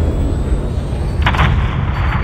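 A gunner lays down cover fire in the Call of Duty Modern Warfare III campaign, a heavy burst of gunfire cracking out midway over a constant loud, low battlefield rumble.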